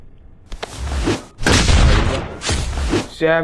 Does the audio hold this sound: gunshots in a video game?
yes